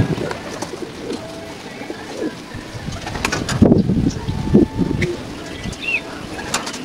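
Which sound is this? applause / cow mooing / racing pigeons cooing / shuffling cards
racing pigeons cooing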